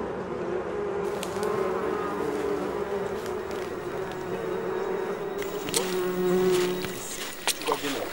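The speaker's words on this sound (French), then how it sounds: "Un bourdonnement se fait entendre. Les abeilles ont repéré ce qu'il nous reste de provisions." Bees buzz around leftover food provisions at a forest expedition camp in Cameroon, a close, continuous drone that rises and falls, with a few sharp knocks near the end.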